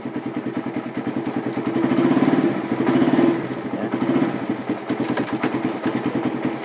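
A motorcycle engine runs steadily in gear with a rhythmic, mid-pitched putter and clatter that swells slightly in the middle, close up, with one brief spoken word.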